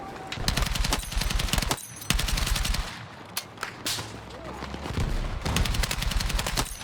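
Rapid automatic weapon fire from Battlefield 6 rattles in long close bursts, broken by a brief lull filled with scattered single shots before the sustained firing resumes.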